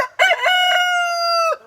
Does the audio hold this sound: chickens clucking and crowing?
yes